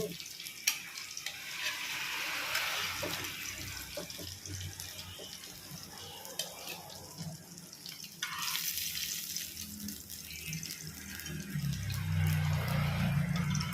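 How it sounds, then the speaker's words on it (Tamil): Manjeera fish pieces fry in a pan with a soft, continuous sizzle and occasional stirring clinks; a stretch of running tap water joins near the end. "இப்போ நம்ம மீன் வறுத்துட்ருக்கோம் இல்லையா"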